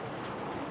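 Boat travel on open water off Kota Kinabalu in Borneo, a steady broadband rush of engine, wind and splashing waves with no pauses, loud and close with no talking.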